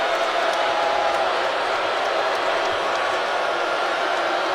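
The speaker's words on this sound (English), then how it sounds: "Sellout crowd here at the Stegman Coliseum getting into it, trying to rally this defense" Sellout basketball crowd at Stegman Coliseum cheering in a steady, dense roar during play, a sustained wash of many voices heard from within the arena.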